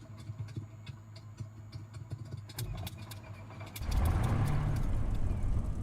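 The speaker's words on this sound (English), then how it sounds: "Cover your ears, guys, when I start to spitty." A Spitfire's piston engine starts up in Microsoft Flight Simulator 2020, with clicks and cranking followed by a sudden loud, rough roar that settles into a steady running drone.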